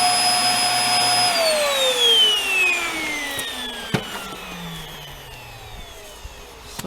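A Hoover Air Steerable vacuum cleaner with no suction hisses and whines as it runs, then its motor pitch slides steadily downward while it winds down, with a few sharp clicks and knocks near the end.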